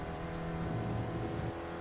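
Spec Racer Ford engine at full throttle in the iRacing simulator at Lime Rock Park, a steady buzzing drone with a slight rise in pitch midway, close and continuous for under two seconds.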